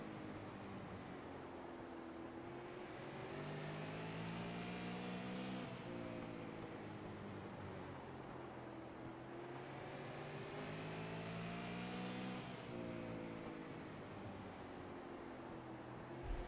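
Super late model race cars on a small, tight short track: engines rise and fall steadily in repeating waves as they brake and get brief bursts of throttle, a continuous roar with no talking.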